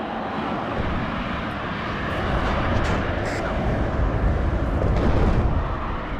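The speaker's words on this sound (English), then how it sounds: "Big hits from the bombers." Bombers strike in the Cold War strategy game WARNO: a broad, rumbling roar of aircraft engines and heavy blasts that swells steadily, with distant booms layered through the continuous low wash.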